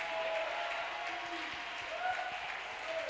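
A church congregation applauds together, a dense, steady wash of clapping from a crowd filling the space, moderately loud and continuous for the whole stretch.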